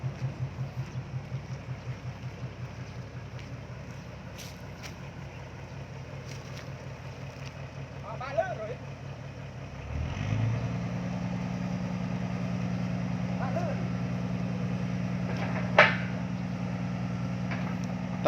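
A Caterpillar CAT 320D-GC excavator diesel engine thuds in a rhythmic idle, then revs up midway to a louder, steady droning run, heard close with no talk.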